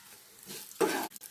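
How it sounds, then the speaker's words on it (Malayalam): A shredded jackfruit fibre snack is deep-fried in hot oil, giving a quiet background sizzle that swells into a sudden loud burst of bubbling and stirring before dropping off briefly. "ഇതിനി വറുത്ത് കോരാം."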